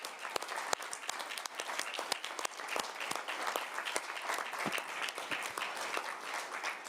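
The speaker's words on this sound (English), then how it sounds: "Please join me in a round of applause for John." An audience at a university board of trustees public meeting claps steadily for about seven seconds, a dense, even patter of many hands heard at a fairly low, distant level with no talking.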